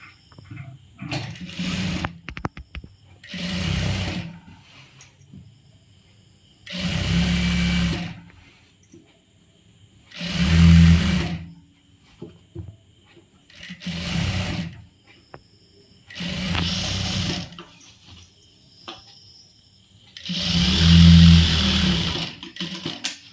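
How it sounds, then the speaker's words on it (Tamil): Sewing machine stitching umbrella-cut churidhar pieces, joining a skirt panel to a bodice panel, running in about seven loud whirring bursts separated by short pauses, with no talking. "இப்போ இன்னொரு தையல் போட்டுக்கலாம்"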